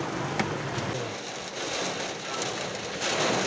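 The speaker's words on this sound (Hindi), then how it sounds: "ये होती है असली बारिश।" Heavy rain pours down in a dense, steady roar, drops drumming on nearby surfaces with occasional louder splashes.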